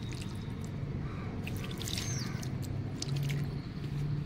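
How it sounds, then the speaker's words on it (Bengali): Water being poured onto potted giant chrysanthemum plants, a steady soft trickle with faint drips throughout, fairly quiet with low background hum. "এগুলোতে একটু করে জল দিয়ে দেবো।"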